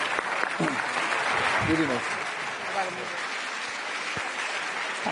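Quiet applause at the Bled Strategic Forum for the prime ministers and a commissioner after a panel debate on Europe's future, a steady wash of clapping with voices talking over it.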